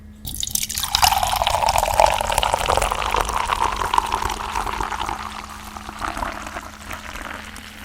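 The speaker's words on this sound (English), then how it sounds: "let's pour this in here. Listen to this pour." An orange fizzy drink from a can is poured close by, a bright splashing stream followed by steady crackling fizz that slowly settles and fades.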